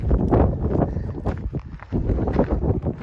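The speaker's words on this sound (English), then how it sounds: "it's super windy out" Strong gusty wind buffets the microphone, a loud continuous low rumble that swells and dips throughout.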